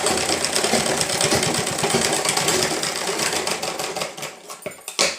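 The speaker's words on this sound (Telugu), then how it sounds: "మొత్తం ఇట్లానే స్టిచ్ చేసేసుకోండి." Sewing machine stitching a hem along folded cloth, a loud continuous rattling whir close by that slows and stops near the end, with no voices.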